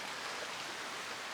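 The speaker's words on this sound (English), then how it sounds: "It's pouring rain outside" Pouring rain hisses outside as a steady, even wash of broadband noise, faint and unbroken with no voices or other sounds.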